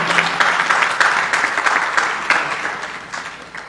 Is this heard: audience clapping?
yes